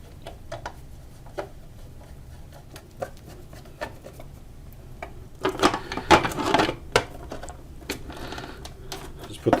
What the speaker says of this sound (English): so I'll just put the screws back.